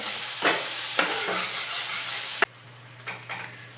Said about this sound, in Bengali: যতক্ষণ না টমেটো থেকে কাঁচা গন্ধ বেরিয়ে যায় ততক্ষণ আমাকে এরকম করে নাড়তে হবে